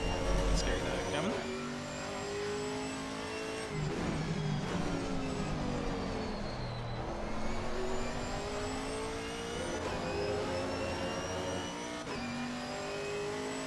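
A race car engine screams in Assetto Corsa Competizione at Imola, rising and falling in pitch through upshifts and downshifts, loud and continuous, with team radio chatter over it.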